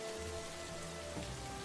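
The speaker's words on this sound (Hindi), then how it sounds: "बारिश और तेज हो गई।" Heavy rain falls in a steady, dense hiss on surfaces, close and continuous with no pauses, with no voices over it.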